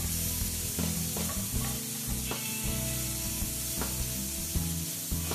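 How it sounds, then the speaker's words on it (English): Strips of red capsicum sizzle steadily as they are stirred and fried in a pan with lamb forequarter, with a continuous crackling hiss, repeated scraping strokes, and no talking. "Now we're going to add some stripped red capsicum."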